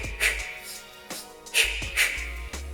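Quick rhythmic breaths puff in and out close to the mic, paired with soft regular thumps, like someone breathing steadily while skipping rope.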